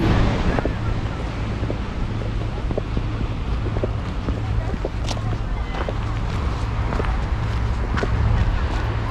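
Sea waves and wind on Whitley Bay beach in winter, a steady broadband wash of surf with gusty wind buffeting the microphone throughout, plus faint footsteps.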